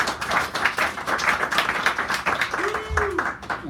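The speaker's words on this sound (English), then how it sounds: "Give him a round of applause" Audience clapping at a poetry hour in a San Francisco cafe, steady and moderately loud, a dense patter of many hands that runs through the whole stretch, with a brief vocal sound near the end.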